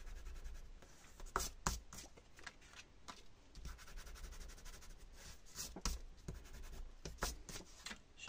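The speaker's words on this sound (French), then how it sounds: "Je vais gommer ça." Pencil marks being erased on paper while making a Baby Dumbo pop-up page, heard as repeated scratchy rubbing strokes in short bursts, fairly close and alone without talk.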